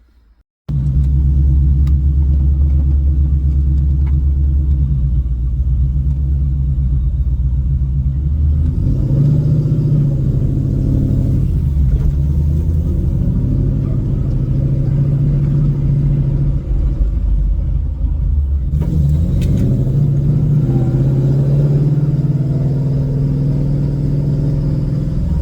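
A Coyote V8-swapped Shelby GT500 with a T56 manual is driven hard through high-rpm clutchless shifts, giving a loud, continuous engine rumble that dips and swells as the gears change.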